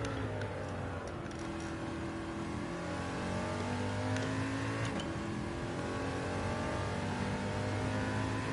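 Nissan GT-R engine revving in Gran Turismo 7 played in VR, a steady loud engine note rising and falling in pitch through gear changes across the whole stretch, with no talk.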